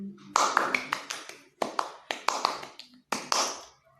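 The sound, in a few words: irregular tapped beats demonstrating an unsteady rhythm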